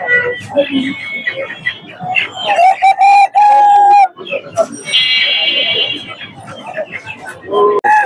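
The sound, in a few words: silkie chickens at market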